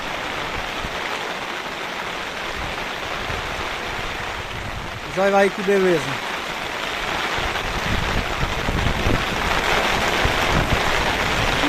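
Steady rain falls on a field burnt by fire, with smoke rising, making a constant broad hiss; a voice speaks briefly partway through.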